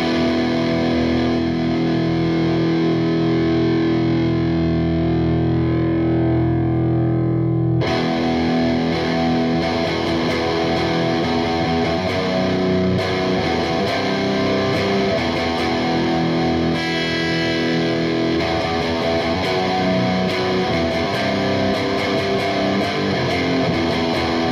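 Electric guitar fitted with a Babicz Full Contact Tune-O-Matic bridge rings out heavily distorted chords, one long sustained chord at first, then a run of loud, dense strummed chords with sustained notes.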